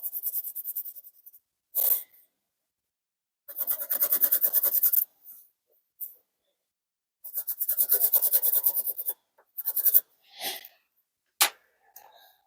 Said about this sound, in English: Locate the holes and just use a pencil and you'll get an outline of exactly where the mounting holes are.